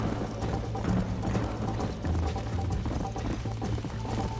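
A horse galloping in the Western game Red Dead Redemption: steady, quick hoofbeats close by under a bed of game noise and music, with no talk over it.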